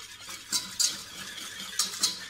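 A whisk beats sugar and egg yolks in a bowl, giving a few sharp metallic clinks against the sides over soft stirring, quiet and close.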